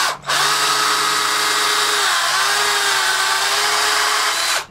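A power drill with a spurred bit bores half an inch into wood, one loud sustained whine that starts abruptly, dips in pitch briefly midway and cuts off at the end.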